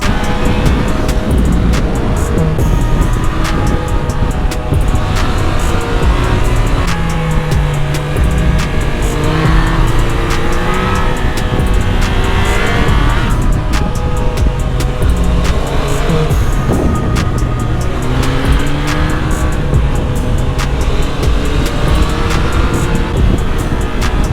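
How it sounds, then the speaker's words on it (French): Triumph Tiger Sport motorcycles ride and overtake on Portuguese roads, engines droning steadily and loudly under heavy wind rush. "On va en profiter pour doubler Scrat nous hein"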